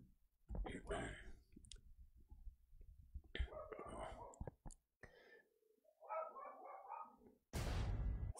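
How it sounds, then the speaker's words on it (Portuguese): A dog barks and whimpers faintly in the background amid sharp clicking from a keyboard and mouse during a Fortnite match, with soft whispered voices and a loud burst of noise at the end. "deixa eu ver que o cachorro tá latindo aqui"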